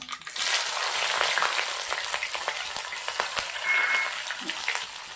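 Onion sizzles steadily in hot oil with bay leaves and dried red chillies for a Bihari-style kundru masala pulao, a dense close crackle with small pops throughout and no talk.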